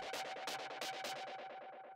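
White noise from an Operator software synth plays as a loud, steady broadband hiss, pulsing in rapid rhythmic bursts with effects applied and a thin sustained tone running underneath.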